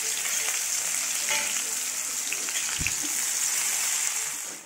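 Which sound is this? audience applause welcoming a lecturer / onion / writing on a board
onion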